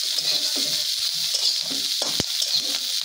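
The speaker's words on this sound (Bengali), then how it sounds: "অনেকটাই কিন্তু আমাদের ভাজি করা হয়ে গেছে, তেলও শুকিয়ে গেছে।" Pumpkin seeds frying with shrimp in a pan as the oil dries out, a steady close sizzle with repeated scraping stir strokes and one sharp utensil knock, no voices.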